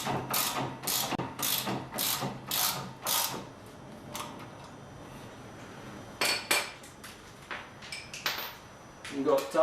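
A ratchet wrench clicks in quick bursts while suspension nuts on a Nissan 240SX S13/S14 are snugged down, sharp close metallic ratcheting in several runs separated by pauses.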